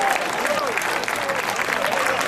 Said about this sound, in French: Il le mérite, vous pouvez les applaudir.